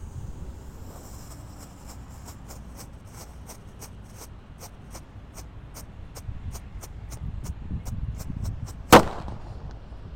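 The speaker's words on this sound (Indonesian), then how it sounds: "Lanjut di sini ada disco happy flower." A small spinning disco happy flower firework crackles outdoors in a rapid, regular train of faint sharp pops that speed up slightly. It ends in one loud, close bang near the end.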